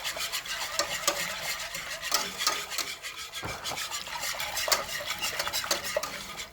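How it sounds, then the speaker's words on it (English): A little fork stirs and scrapes through flour and oil in a pan for homemade white gravy, giving a steady close run of metallic raspy scraping strokes with faint sizzling underneath and no talk. "take your little fork and just kind of break the little bits up on the side"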